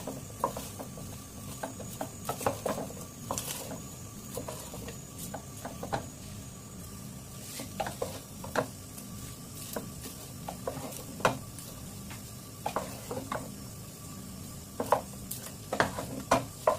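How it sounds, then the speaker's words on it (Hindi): Homemade caramel popcorn being mixed with one or two spoons in a pan makes irregular scraping, rustling and clicking strokes over a faint sizzle, fairly close and quiet, with no voices. "अब इमीडिएटली पॉपकॉर्न को 1 या 2 स्पून की मदद से बहुत ही अच्छे से मिक्स कर लेना है।"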